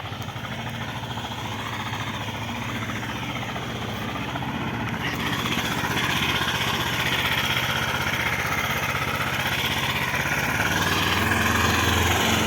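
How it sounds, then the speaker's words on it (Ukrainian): A homemade mini tractor's engine runs steadily nearby on a snowy winter day, a continuous rough mechanical drone that swells slightly louder partway through, with no talk over it. "дружину їздити на своєму саморобному міні-тракторцю"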